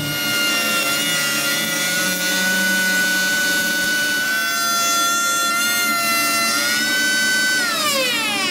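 A power saw cuts grooves into a wooden washboard, a loud sustained whine with steady tonal overtones that shift and rise near the end of the cut, close and without speech.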